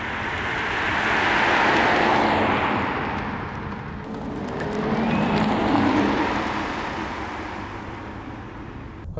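A BMW 330e M Sport plug-in hybrid drives on electric power with almost no engine note, only a soft whir and a broad tyre-and-road rush that swells twice as it moves along.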